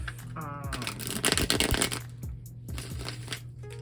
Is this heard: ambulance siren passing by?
no